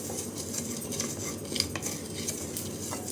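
Cumin seeds roast in a kadai while a metal spoon stirs and scrapes against the pan, a close clatter of light clinks over a faint sizzle lasting a few seconds, without voices.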